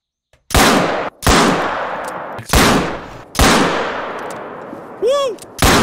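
Pistol gunfire in a hunting video game: five loud, sharp shots spaced about a second apart, each with a decaying tail, alone without talk.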